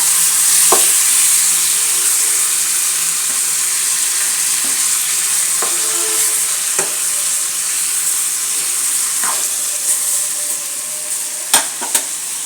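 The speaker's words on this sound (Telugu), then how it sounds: "ఇది కొంచెం నూనె వేసి జీలకర్ర వేసి వేపిన తర్వాత ఇదంతా వేపాలి" Tomatoes frying in oil with cumin give a steady close sizzle throughout, broken by a few brief clinks and scrapes of stirring.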